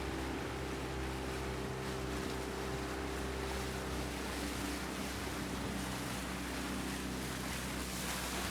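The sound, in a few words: large waves hitting a boat on a river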